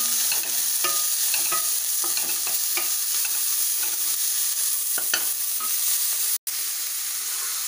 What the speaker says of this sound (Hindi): गाजर, इसको हम हल्का सा फ्राई करेंगे, फिर ये जो कच्चापन है ये दूर हो जाएगा।